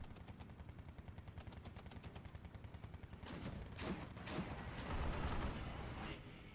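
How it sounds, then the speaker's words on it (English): IL-2 ground-attack aircraft firing 37mm cannons in the Steel Division 2 war game, with rapid rhythmic thuds of automatic fire building into heavier bursts and impacts, alongside battle noise at moderate distance. "IL-2 comes in for the 37mm, dealing a lot of damage, but not destroying it."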